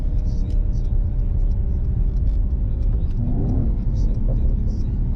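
Mercedes-Benz AMG pulling away under acceleration, its exhaust rumbling loudly and steadily with scattered crackles, heard from inside the car with occasional talk over it.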